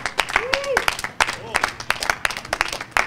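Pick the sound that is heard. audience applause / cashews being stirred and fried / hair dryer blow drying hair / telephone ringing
audience applause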